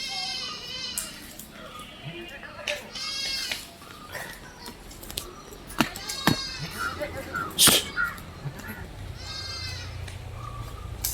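Goats bleat at a livestock sale, several wavering cries rising over a busy background of talk and farm noise, one sharper call standing out near the middle.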